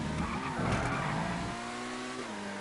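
A car in a video game stunt match skids and kicks out, with tires squealing over a steady revving engine that eases off partway through, loud and close, with no talking.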